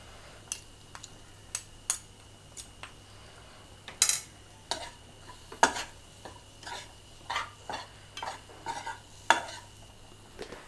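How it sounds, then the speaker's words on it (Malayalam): Spoon scraping and stirring in a pan while ingredients sauté for Kerala sambar, a series of sharp clinks and scrapes with a soft sizzle beneath, fairly close, no talking. "നന്നായിട്ട് വഴറ്റി കൊടുക്കുക. പച്ചമണം പൂർണ്ണമായിട്ടും മാറണം കേട്ടോ."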